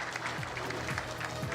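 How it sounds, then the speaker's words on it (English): Audience applause at a centennial celebration event, a short burst of steady, dense clapping from a crowd, fairly faint and even throughout. "Let's give them one more round of applause."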